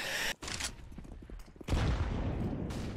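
Bursts of AK rifle fire during a competitive shooter match between BIG and Wisla Krakow, sharp loud volleys separated by a short lull, then a sustained heavy barrage of shots.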